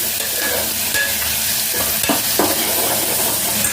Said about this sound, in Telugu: ఉల్లిపాయలు వేసుకుంటున్నాం